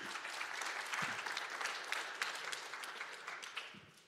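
Audience applause after a security conference talk on vulnerabilities in Android password managers, a dense steady clapping from a large crowd that runs the whole time and tapers slightly at the end.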